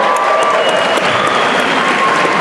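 Loud, sustained applause from a large audience at a Salt Lake City live tour event fills the room evenly, with no break and no voices standing out.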